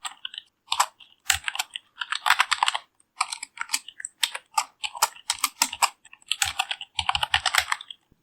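Computer keyboard typed in quick bursts of clicky keystrokes while writing JavaScript code for a live digital clock, close and clear, with short pauses between runs and no talking.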